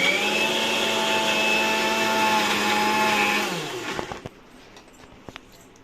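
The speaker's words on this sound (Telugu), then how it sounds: "మిక్సీ పెట్టేసుకోవడమే" Loud, steady whine of a mixer grinder blending henna leaves with water for about three seconds, then winding down and stopping, followed by a few light knocks.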